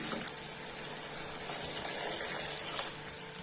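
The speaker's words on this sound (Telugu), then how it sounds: "ఇంకా కొద్దిగా వాటర్ పోసుకున్నాం" Water poured into a pot of mutton curry gives a continuous close gushing, splashing wash that holds steady for the whole stretch with slight swells in loudness.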